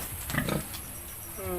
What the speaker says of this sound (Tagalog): yung baboy nating alaga, ang inanak, apat lang.